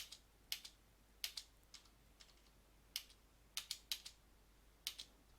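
Keys on a computer keyboard are pressed in sparse, irregular clicks, single taps and quick pairs, close and crisp over a quiet background with no talking.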